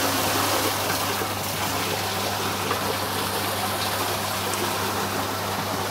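Water rushes through an arch culvert in a hydraulic flume, a constant dense gushing wash over a low steady pump hum, continuous and close with no talk.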